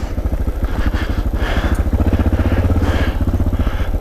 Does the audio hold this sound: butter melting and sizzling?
no